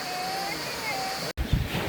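Turgut Waterfall near Turgut village in Marmaris pours in a steady, broad rush of falling water that runs through the whole stretch, with a person speaking over it and a brief dropout just past the midpoint.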